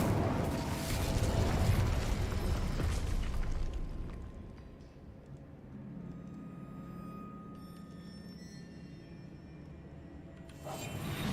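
Incendio fire spell cast in Hogwarts Legacy, heard as a loud whooshing, roaring burst in the first few seconds that fades into a quieter low rumble, with a brief swell near the end.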